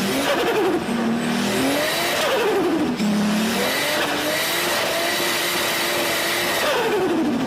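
A voice imitates a turbocharged car without a blow-off valve, a loud close engine-like drone that rises and falls in pitch, swooping up and then dropping repeatedly.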